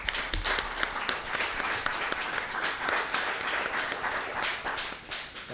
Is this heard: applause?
yes